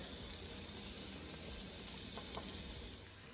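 Onion and garlic sizzle in melted butter with a little coconut oil in a hot pan, a steady close crackling hiss holding at an even level throughout with no talk.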